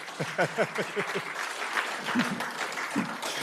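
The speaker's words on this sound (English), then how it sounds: "That's worth some applause, I think." Audience applause breaks out at a school district State of the District 2023 event, a room of clapping hands with a voice or two cutting through early on, sustained for a few seconds.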